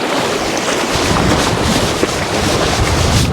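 A strong west wind blows steadily across the sea shore at Sandpoint, buffeting the microphone loudly and without a break, with the roar of surf mixed in.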